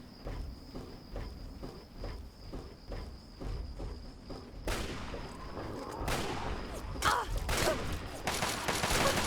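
Enemy gunfire in Fallout 3 crackles in rapid repeated bursts, starting as spaced shots and building into a louder, denser barrage of overlapping blasts.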